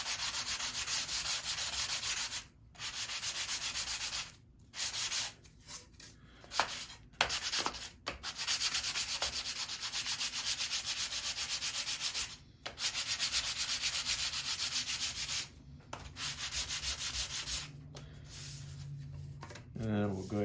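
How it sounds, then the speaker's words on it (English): Steady sanding strokes rub across the sides of a wooden model airplane fuselage for a Carl Goldberg Tiger 2 build, a close, continuous scratchy rasp broken by short pauses, with a person talking over parts of it. "So what I like to do is give the both sides a quick sanding"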